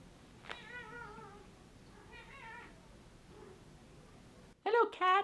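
A cat gives two drawn-out meows with quiet pauses between, and a person's voice briefly speaks near the end.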